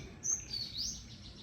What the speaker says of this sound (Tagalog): Daming ibon dyan.